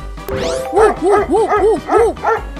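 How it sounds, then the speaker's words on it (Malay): A robot toy dog's electronic dog barking, a quick run of about six yappy woofs after a short chirpy tone, loud and close. "Pertama, anjing yang normal bila mereka menyalak."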